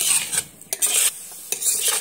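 Turmeric is stirred into fried taro (mankochu) in a pan, with repeated scraping strokes of a utensil against the pan over a soft sizzle, close and alone.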